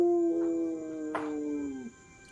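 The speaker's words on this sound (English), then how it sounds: "As you head down the mountain, you hear in the distance the howling of wolves." Wolves howl in the distance on a mountainside, a long, steady, slowly falling tone with a faint second voice joining partway and a brief yip, heard alone without talking.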